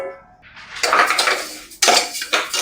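Rice being dry roasted in a pan for tomato pongal: a metal spoon scrapes and clanks against the pan in two bursts of stirring, close and fairly loud.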